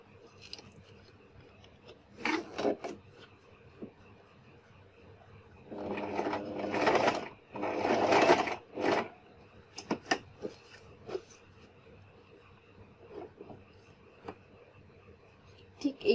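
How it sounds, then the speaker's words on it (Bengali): Sewing machine stitching a zipper onto a cushion cover, short bursts of quick mechanical whirring between quieter pauses with light fabric handling, close but fairly faint, no talking. "ঠিক এইভাবে এই সেলাইয়ের উপর থেকে আমি সেলাই করে দিব।"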